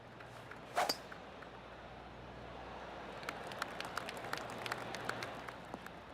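Scattered light golf claps from a distant crowd patter over a steady ambient hush, with a brief sharp sound near the start, in the video game PGA 2K25.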